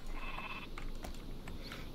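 Sheep bleat in the strategy video game Northgard, a few short bleats over steady ambient game background.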